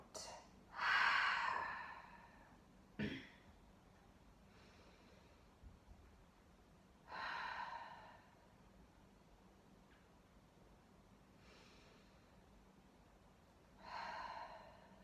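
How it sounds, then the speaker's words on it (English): Slow breaths drawn in and released through the nose during a seated post-natal yoga exercise, soft airy hisses about every few seconds, close and quiet with pauses between. "Notice how the breath feels as it comes in through your nose"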